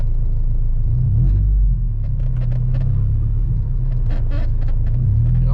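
A truck drives along a road, heard from inside the cab as a loud, continuous low rumble of engine and tyres with faint rattles and creaks over it.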